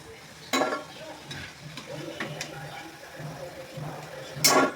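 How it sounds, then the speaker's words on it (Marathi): Gulab jamun dropped one by one into medium-hot oil, giving a low steady sizzle with a few louder bursts as pieces go in near the start and end. "आता याच्यामध्ये जामून सोडायचे एक एक।"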